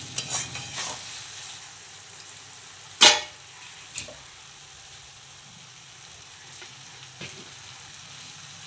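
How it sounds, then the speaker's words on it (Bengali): Tomatoes being sautéed in a pan for Bengali fish head muri ghonto, a soft steady sizzle with a sharp scraping stir near the middle and a few lighter clinks, no talk. "এবার একটু আমাকে ভালো করে একটু সময় নিয়ে ভালো করে কষাতে হবে।"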